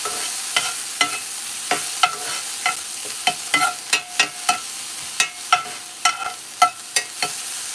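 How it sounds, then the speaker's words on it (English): Food sautés in a very hot pan while a utensil stirs it, giving a steady sizzle and a run of sharp scraping clinks every half second or so, close by and with no talk. "And we're going to saute that up."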